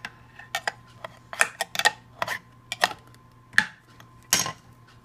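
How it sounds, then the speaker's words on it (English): A hand can opener punctures and cranks around a small can of evaporated milk, giving a run of sharp metallic clicks and ticks spaced irregularly across a few seconds, close up with no talking. "Open with just a can opener."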